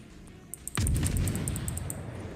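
A heavy boom of naval guns firing in the World of Warships video game, followed by a sustained low rumble with repeated sharp ticking clicks above it.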